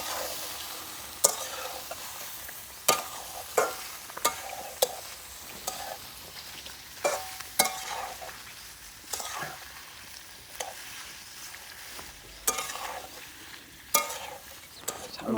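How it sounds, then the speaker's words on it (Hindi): Frying onions are stirred in a pan, a low sizzle running under repeated sharp scrapes and clacks of the spoon against the metal at irregular intervals. "ये फ्राई हो चुका है प्याज।"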